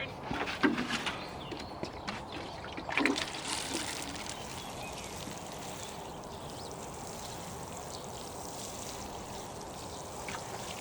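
Water is poured over newly planted onion sets in a garden bed, a soft hissing trickle and splashing, strongest in two early bursts and then a steady, quieter pour.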